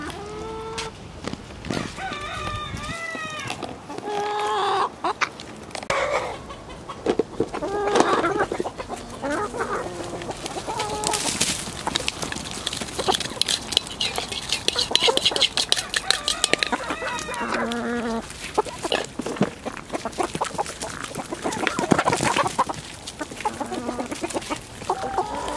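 Laying hens cluck close by while pecking at eggshells and kitchen scraps, a busy, overlapping run of clucks and squawks with a rooster crowing now and then.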